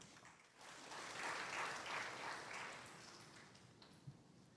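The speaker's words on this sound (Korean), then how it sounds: "박수로 맞아주시기 바랍니다." A seminar audience applauds to welcome a student presenter at an academic conference, a soft, distant wash of clapping lasting several seconds with no voices.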